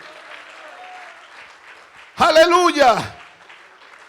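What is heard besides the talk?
congregation applauding in church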